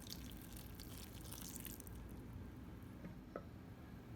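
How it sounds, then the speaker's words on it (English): Water is poured into flour and worked into a lumpy bread dough, giving faint wet squishing and dripping sounds over a low steady background, with no talking. "Adding more water now."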